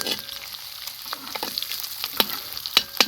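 Ginger, green chilli and onion fry in a pan: a dense, steady sizzle with scattered sharp clicks and scrapes from a stirring spoon against the pan.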